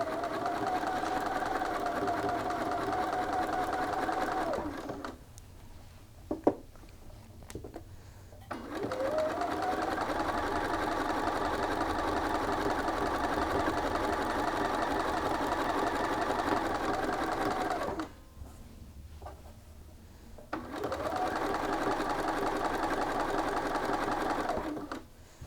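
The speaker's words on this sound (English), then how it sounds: "And then we're just going to start sewing." Side seams of a garment are stitched on a sewing machine in three long, steady runs of rapid mechanical needle clatter with a motor hum, separated by short quiet gaps and a single sharp click.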